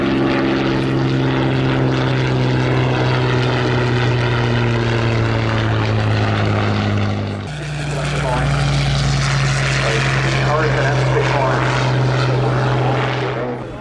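Hawker Fury biplane, the sole airworthy survivor of its line, flying at the RAF Cosford Airshow 2018, a loud steady piston engine and propeller drone that shifts pitch partway through, with a commentator talking over it.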